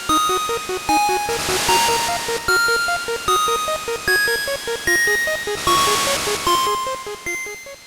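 A theme from the game The Frog for Whom the Bell Tolls: a bright, bell-like looping melody of steady arpeggiated notes over sustained chords, loud and continuous with no voices.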